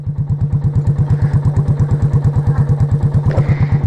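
A KTM RC 200 motorcycle engine runs at a steady, loud idle nearby, its exhaust thumping in an even rapid pulse, with a faint clatter near the end.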